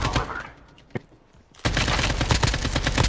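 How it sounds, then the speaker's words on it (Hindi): Gunfire in a battle-royale-style multiplayer video game: a quiet stretch with one sharp isolated shot, then a sudden loud, sustained barrage of rapid automatic fire, with some talk nearby. "ये कौन है भाई इतनी गोलियां क्यों बरसा रहा है"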